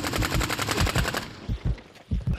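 Rapid automatic gunfire from Call of Duty: Modern Warfare 3, a loud burst of evenly spaced shots that breaks off, followed by a few scattered heavier single shots.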